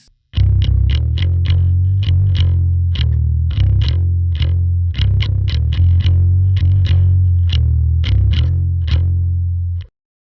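A distorted, chorus-laden bass guitar plays a riff at full tempo, with a steady run of picked low notes and bends that stays loud and continuous for nearly ten seconds before stopping.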